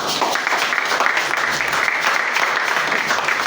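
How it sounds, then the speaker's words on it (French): A church congregation claps loudly and steadily throughout, a continuous wash of applause with no pauses. "On peut maintenant acclamer le Seigneur."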